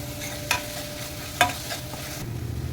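Tomatoes and curry leaves fry in a pan for chicken masala, a soft steady sizzle with two sharp utensil knocks against the pan.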